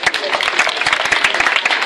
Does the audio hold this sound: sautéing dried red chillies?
no